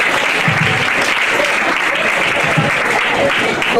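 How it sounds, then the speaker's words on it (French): Wedding guests at a French reception applaud the newlyweds, loud continuous clapping sustained throughout, with some voices and cheers mixed into the crowd. "Applaudissez pour eux, s'il vous plaît."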